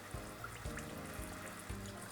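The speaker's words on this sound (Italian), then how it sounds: "verso l'acqua che ho lasciato da parte nella fecola" Water trickling steadily as it is poured into potato starch during preparation of a caramel mirror glaze, a soft continuous close flow with no talking.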